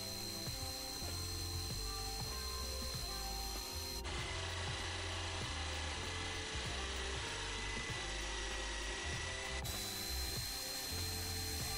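A Parkside PSTD 800 B2 pendulum-action jigsaw hums steadily, then bites into the cut with a louder, buzzing saw rasp for several seconds before dropping back to a quieter running whine.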